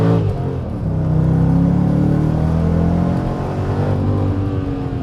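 A Mercedes SL55 AMG accelerates hard on a kick-down pull, its supercharged engine roaring loud and close with a deep rising rumble that builds then holds steady, no voices over it.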